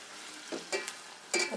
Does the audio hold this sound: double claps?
no